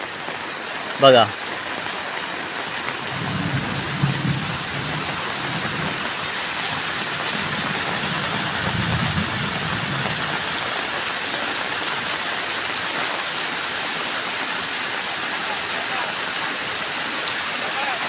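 A thin, fine waterfall pours during heavy monsoon rain, a steady broad rushing wash that fills the whole stretch, with someone briefly speaking near the start.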